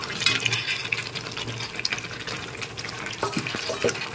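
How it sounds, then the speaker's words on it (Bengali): Chicken pieces are stirred into a cornflour-thickened chili chicken sauce in a pan: a soft continuous sizzle with scraping stirs and a few sharper clacks near the end. "এবার আমি এর মধ্যে চিকেনগুলো মিশিয়ে নিচ্ছি।"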